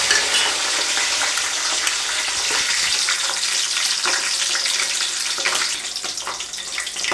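Green chillies and bay leaf fry in hot oil for mushroom biryani, giving a loud, steady, crackling sizzle with faint stirring scrapes throughout and no talking.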